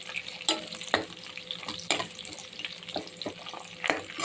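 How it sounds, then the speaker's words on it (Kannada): Onion, curry leaves and green chillies sautéing in coconut oil, a close, steady sizzle with several sharp spatula scrapes and stirs against the pan, no talking. "ಚೆನ್ನಾಗಿ ಬಾಡಿಸ್ಕೊಳ್ಳಿ"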